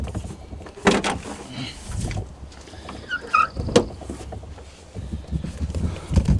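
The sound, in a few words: opening the rear doors of a truck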